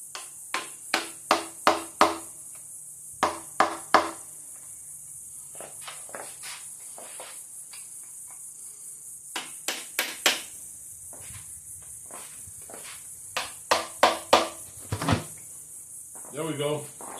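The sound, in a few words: hammering a cheap chisel on an engine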